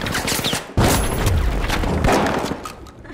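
Automated turret in The Finals opening fire in an arena match, a sudden loud burst of rapid gunfire with heavy thumps and crashes, continuing in dense volleys before trailing off.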